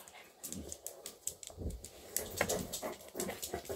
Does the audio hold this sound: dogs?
yes